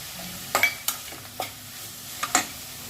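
A spoon stirs palak paneer gravy in a pan, giving a few scattered scraping strokes with short sizzling bursts, close and clear against a quiet background.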